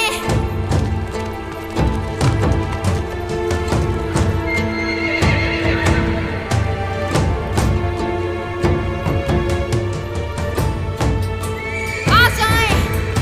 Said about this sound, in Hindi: जल्दी मेरा घोड़ा लाए,